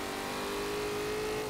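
A 1970 Buick GSX big-block V8 in Forza Motorsport 7 holds a steady, loud revving drone with a rising engine whine, heard alone with no talk over the brief stretch.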